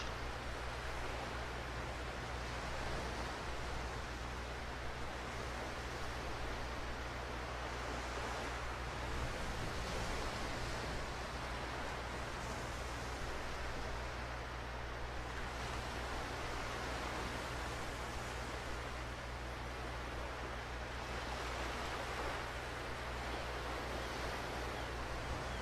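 Waves roll up on a shoreline in the video game ICO, a steady, broad wash of surf noise with slow swells in loudness and a faint low hum underneath, heard alone throughout.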